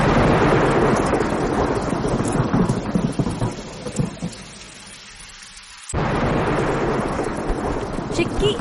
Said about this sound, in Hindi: बारिश ने उसका रास्ता रोक रखा था, लेकिन माँ की ममता के आगे तूफान की क्या औकात